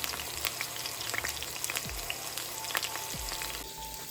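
Burgers frying in avocado oil in a pan give a steady, close crackling sizzle throughout, with a couple of low soft thumps partway through.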